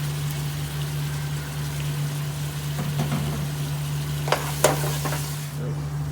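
Sliced tomatoes and red capsicums fry in a pan over lowered gas, giving a steady close sizzle over a constant low hum, with a few sharp clinks of stirring near the end.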